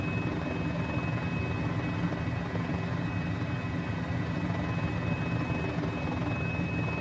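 A Got Friends Mini-500 helicopter flies and comes in to land on Easter Island, its rotor and engine giving a steady, loud, close drone that holds without a break throughout.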